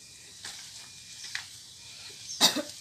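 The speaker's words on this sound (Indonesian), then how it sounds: "Sorry, masih kondisi agak batuk." A single short cough bursts out near the end, after soft hissy rustling and a few faint clicks in a quiet room.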